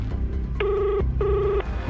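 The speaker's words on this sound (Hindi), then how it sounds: "नमन ने जेब से तुरंत फोन निकाला और ध्रुव को फोन मिलाया" A telephone ringback tone after a call is placed, two evenly spaced electronic rings heard close and clear over a low background hum, no talking.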